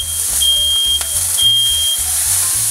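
A smoke alarm set off by cooking burgers beeps insistently, its high piercing tone repeating in long bursts over a low rumbling background.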